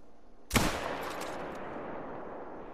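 A single loud rifle shot at a kangaroo in a hunting video game, a sharp close crack followed by a long fading rumble and echo.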